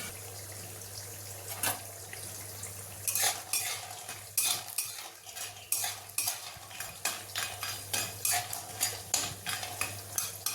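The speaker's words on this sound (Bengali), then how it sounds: "তেলটা খুব ভালো করে গরম করে কলাইয়ের ডালের বড়িগুলো আমি ভেজে দেবো" Urad dal badi frying in hot oil in a pan, with a steady low sizzle under repeated sharp clinks and scrapes of a metal spatula turning the pieces, growing busier toward the end, and no talking.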